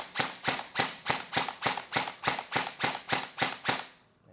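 A single airsoft rifle, an ENC 645-3 on semi-auto, fires about a dozen sharp, evenly spaced shots at close range, each a crisp snap, before going quiet.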